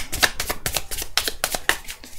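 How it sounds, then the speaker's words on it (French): Tarot cards are shuffled and drawn by hand in a quick series of crisp, papery riffles, roughly ten close bursts in an uneven rhythm, heard up close with no talking. "On va tirer 8 cartes."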